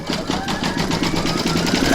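Embroidery sewing machine stitching a large bells applique in the hoop, a steady fast mechanical whirr with rapid even needle pulses running continuously at close range.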